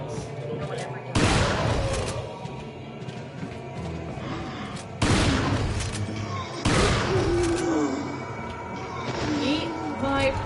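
Gunfire in the video game Resident Evil 4 comes as a few sharp, loud shots spaced seconds apart, with talking running alongside.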